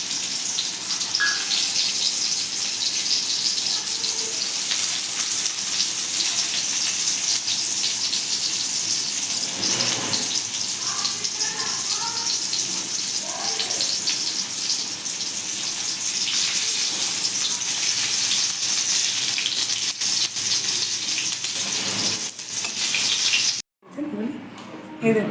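Bitter gourd sizzling in hot oil in a pan, a steady hiss of frying that runs continuously, with faint clinks and a voice speaking over it.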